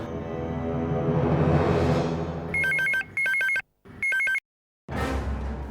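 A telephone rings in three short electronic bursts with brief pauses between them, over a steady hum and ending in a faint ambient background.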